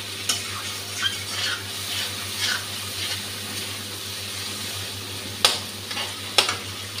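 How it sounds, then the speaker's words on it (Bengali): Spice masala fries in a pan for a capsicum and katla fish dish, a steady soft sizzle under repeated scraping stirs of a spoon, with a couple of sharper metallic clinks near the end. "মশলাটা ভাজা হয়ে আসছে।"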